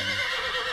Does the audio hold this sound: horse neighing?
yes